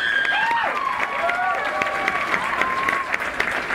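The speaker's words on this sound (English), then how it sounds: "let's give a round of applause to the 2014 Men and Women of Maui Scholars" Crowd applause with some cheering for scholarship contestants at a Maui pageant, steady and sustained throughout while voices carry over the clapping.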